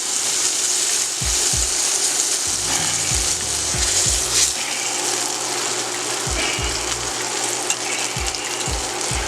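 Pork chops for smothered pork chops sizzle steadily in a skillet after browning on both sides, a continuous close frying hiss broken by repeated low knocks and scrapes of utensils against the pan.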